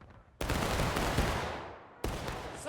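Musket volley fire in a multiplayer line-infantry video game: two loud, close crashing bursts of many shots firing together, with the first longer blast fading out before a second sharp volley cuts in.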